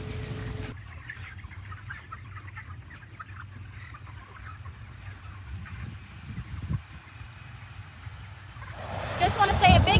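A poultry farm house holding about 26,000 broiler chickens ready for market fills the air with a dense, continuous murmur of clucking birds, with someone talking over the flock and a louder burst of activity near the end.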